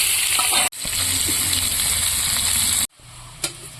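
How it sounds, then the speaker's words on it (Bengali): Loud, steady sizzling of potatoes frying in hot oil previously used for frying fish, cut by two brief silences, with a faint clatter near the end. "এখন আমি মাছ ভাজা তেলে আলুগুলো ভেজে নেব"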